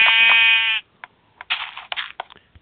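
A sheep in Minecraft Pocket Edition gives one long loud bleat, followed by a few short scattered game clicks and thuds.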